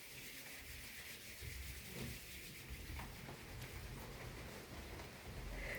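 A class of fifth-grade children imitates rain during a forest-symphony nature lesson, making a steady, dense rustling patter that swells slightly in intensity and continues without pause. No clear speech.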